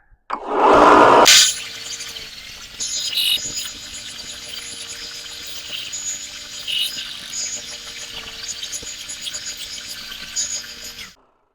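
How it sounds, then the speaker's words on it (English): Steady, gritty whirring of a power sander on wood for a mini Zen table, running continuously after a brief loud burst at the start, close and fairly loud. "let's do some sanding"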